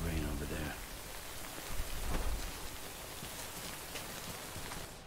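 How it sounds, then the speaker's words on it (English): Steady rain falls in the Death Stranding video game, a dense, even hiss of drops that continues throughout with a brief swell near the middle. "Just wait out the rain over there."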